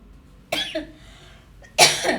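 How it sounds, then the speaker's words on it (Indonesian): Two coughs, a short one early and a harsher, louder one near the end, close up, with quiet room tone between them and no talking. "Oh jadi batuk gue, sorry."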